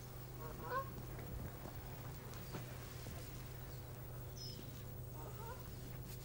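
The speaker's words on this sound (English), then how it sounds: "Look at those geese." Geese honk faintly in the distance on a farm early in the morning, with a few scattered calls over a steady low rumble of background noise.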